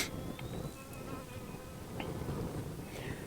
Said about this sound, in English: And I got one bee here.